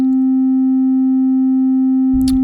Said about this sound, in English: a continuous tone like this isn't that great